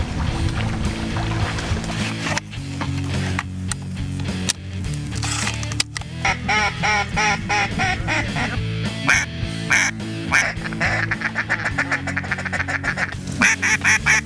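Ducks quack over and over on a cold late-season morning in an Arkansas bayou during a waterfowl hunt. Bursts of calls come thick and fast against a steady wash of outdoor background noise.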